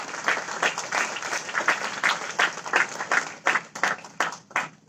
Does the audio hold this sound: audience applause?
yes